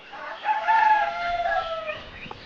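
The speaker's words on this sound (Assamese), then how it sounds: "এইবোৰ মুৰ্গী চাওক, চব ৰেডি হৈ গৈছে, ভাল চাইজত হৈছে" A rooster crows once on a poultry farm: a single loud, fairly close cock-a-doodle-doo over about two seconds, with soft clucking from chickens around it.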